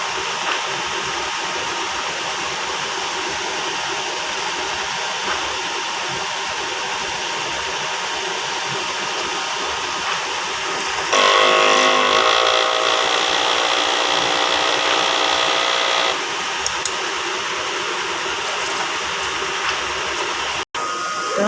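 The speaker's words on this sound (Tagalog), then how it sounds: "Ganito naman po yung pag-head clean." A Smart 2 printer runs a print head cleaning cycle, a steady mechanical whir that rises for several seconds mid-clip and then stops, over a constant background hum.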